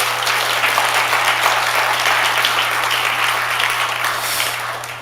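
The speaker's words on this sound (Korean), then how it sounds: "감사합니다 하고 박수 한번 드립니다" Church congregation at a Korean Baptist revival meeting applauding their pastors, a dense steady wash of clapping from many hands that fades slightly at the end, over a low constant hum.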